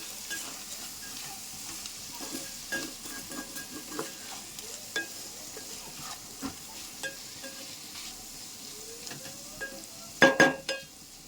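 Bitter gourd curry sizzles gently in a pan while a spoon stirs and scrapes at irregular intervals, with a cluster of sharper metal clinks near the end; no one speaks.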